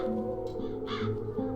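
Crows caw in the video game The Dark Eye: Chains of Satinav, a couple of harsh, close calls standing out over a steady droning musical background.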